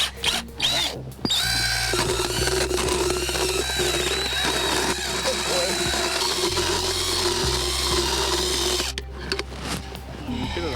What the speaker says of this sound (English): After a rinse, it's time for some grinding.